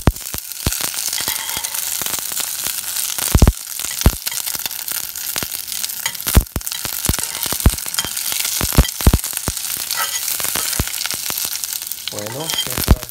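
Habanero chilies sizzle steadily in a pan for salsa, with sharp spatula scrapes and knocks against the pan at irregular intervals, heard up close.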